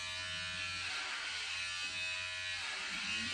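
Electric hair clippers shave a man's hair with a steady, close, even buzz that barely changes pitch, and no one speaks.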